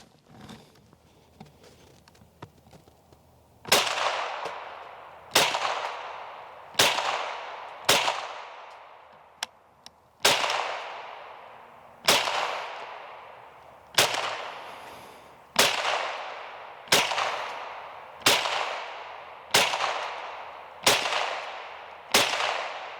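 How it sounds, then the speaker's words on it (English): Antique Winchester Model 74 .22 semi-automatic rifle fired outdoors: about thirteen sharp, crisp shots at irregular intervals of one to two seconds, each with a short ringing tail, loud and close. "So let's do a little shooting."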